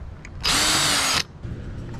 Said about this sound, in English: Drill out rivet.